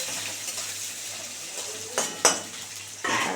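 Diced potatoes fry in a pan with five-spice seasoning, a soft steady sizzle running throughout, broken near the end by a few clinks and scrapes of a spoon stirring against the metal.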